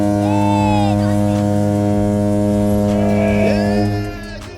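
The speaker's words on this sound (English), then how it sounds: "Honk that horn!" A loud, deep, sustained horn blares at a Volkswagen car show in California, holding a steady droning tone for about four seconds before trailing off, with cheering voices around it.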